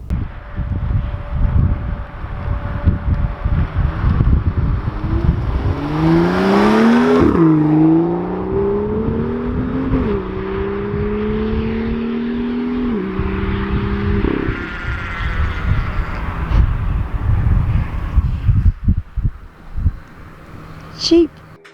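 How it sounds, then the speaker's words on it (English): A BMW M2 engine with stock exhaust revs up and settles, its exhaust rising in pitch through several surges, loud and close with wind noise over the microphone. "just as a standard stock system, it actually sounds banging."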